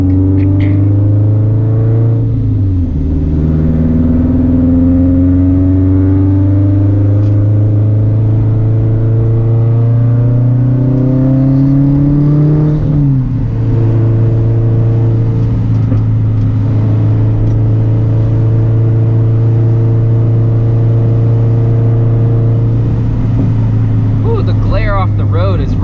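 A 2015 Subaru STi drives on slick, rain-wet canyon roads, its engine droning loudly from inside the cabin as it shifts through gears, the pitch rising with each pull and dropping at each change.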